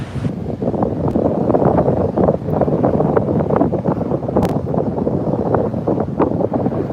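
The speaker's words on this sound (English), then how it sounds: "We have a strong northerly blowing today" A strong northerly wind blows steadily on a rocky coast, buffeting the microphone as a loud, continuous rumbling roar for the whole stretch, with brief gusts and no voices.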